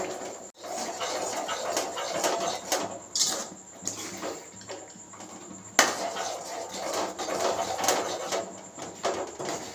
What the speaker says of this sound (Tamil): கை எடுக்காமல் கிண்டிகிட்டே இருக்கணும்